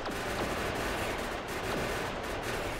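A tank in the video game Factorio fires uranium ammunition in a dense, continuous barrage of loud gunfire, with overlapping shots blending into one roaring wall of sound.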